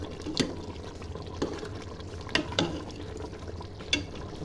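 Goat liver (kaleji) being stir-fried in a pot with water still in it, a steady low sizzle and bubbling broken by a few sharp scraping clicks of the spoon, with no voice.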